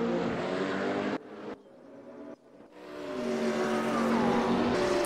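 Race cars in a simulated racing game roar around the track, engines loud and rising and falling in pitch as they pass, with a brief quieter gap midway before the high-revving drone returns at full volume.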